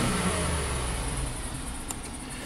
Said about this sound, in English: So I'm just slowly revving it up with no load